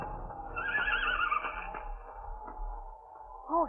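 A horse whinnies from a rocky outdoor landscape as a storm approaches, a rising, quavering neigh early on and a shorter call near the end, over low rumbling background.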